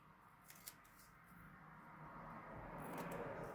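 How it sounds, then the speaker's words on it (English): Scissors cut excess paper from a junk journal envelope, giving a few soft snips and then a longer quiet slicing rustle, close and faint, with no talking. "Now we just cut off this excess,"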